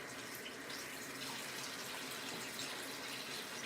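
Vegetables rinsed under a steadily running kitchen tap, a continuous broadband rush of water that stays even and fairly loud for the whole stretch, with no talking.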